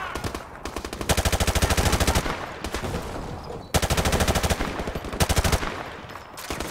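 Rapid automatic gunfire in a Call of Duty Modern Warfare combat scene, loud bursts of machine-gun fire repeating in long rattling volleys with short pauses between them.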